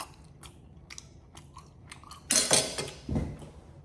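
A slice of medium rare steak being chewed close to the mic: soft, wet mouth sounds and small bites, then a louder burst of juicy chewing and a final chomp.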